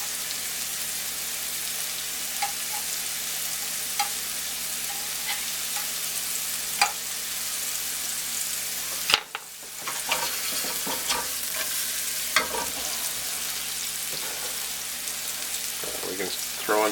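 Mushrooms frying in a pan give off a steady hiss of sizzling, broken by occasional stirring clinks and scrapes and one short lull midway.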